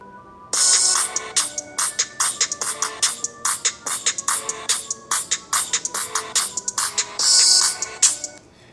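Google Pixel 4a stereo speakers play music held in the hand, a punchy rhythmic track with sharp repeated beats and bright bursts, loud and close.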